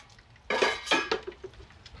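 A metal lid clanks onto a cooking pan, one sharp clatter followed by a second settling clink and a few light rattles, close by in a kitchen while pasta primavera cooks.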